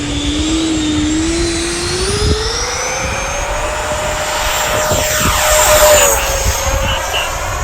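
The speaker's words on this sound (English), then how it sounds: "Taking that Freewing 90mm F-18 up right over Tony's head." A Freewing 90mm F/A-18C Blue Angels RC jet with an FMS motor flies overhead: a loud, steady electric ducted-fan whine that rises in pitch and then sweeps past, with a swelling rush as it passes close and no voices.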